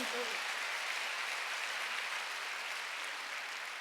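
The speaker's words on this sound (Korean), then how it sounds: "박수 한번 더 주세요" A Korean church congregation applauds during a Sunday worship service, a steady, dense wash of clapping that fills the room and holds without a break.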